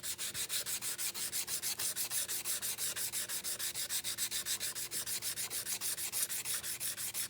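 Hand sanding of a wooden piece, a quiet rhythmic back-and-forth rasp repeating about four times per second, steady and close with no voices.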